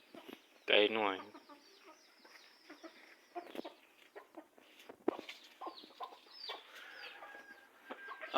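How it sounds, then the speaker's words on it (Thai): Chickens cluck and murmur around a rural Lao home, with one loud squawk early on followed by softer scattered clucks nearby and faint background sounds. "ไก่น้อย"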